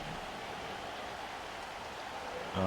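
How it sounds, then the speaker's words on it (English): Steady rain falls in a video game match, a constant soft hiss of droplets at low level with no other clear sounds, until a brief louder onset at the very end. "it's still raining"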